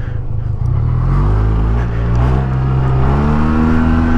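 A 2020 Yamaha TMax 560 scooter engine drones steadily and close during a test ride, its pitch rising gradually as it accelerates, loud and continuous with no talking.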